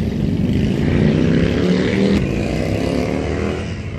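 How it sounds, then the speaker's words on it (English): Loud motorcycles passing close by outside a small ice cream shop, a continuous heavy engine roar that swells and slowly fades. "Motorcycles, very loud."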